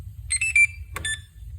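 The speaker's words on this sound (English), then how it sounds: "It beeps at you and it'll start charging." An RC battery charger gives two short bursts of high electronic beeping, a quick double chirp followed by a brief pause and another chirp, set against a quiet low hum.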